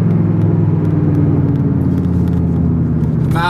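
A Lamborghini fitted with an Armytrix exhaust idles with its exhaust valves closed, giving a steady, deep, even engine rumble from inside the cabin that holds for several seconds, with a brief brighter burst of noise right at the end.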